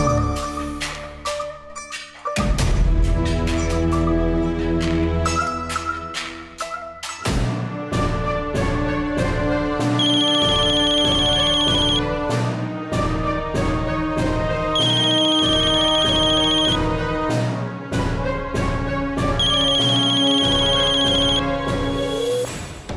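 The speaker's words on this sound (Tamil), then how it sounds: "யார் ஃபோன் பண்ணது?" A mobile phone ringtone plays a bright, melodic electronic tune, loud and close, with repeating high chiming phrases over a steady rhythmic beat lasting the full length, with no talking over it.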